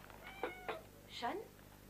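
A cat meows several times indoors, short harmonic cries with a longer final meow, fairly close, over faint room noise.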